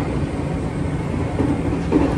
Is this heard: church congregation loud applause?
no